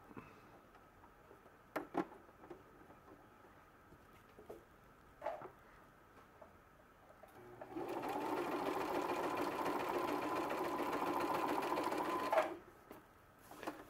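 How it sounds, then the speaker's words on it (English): A sewing machine stitches thick waxed canvas with heavy upholstery thread for a drawstring bag. Scattered handling clicks come first, then a steady whirring run of about five seconds that stops abruptly, close and moderately loud. "Now we're just going to put a stitch on this."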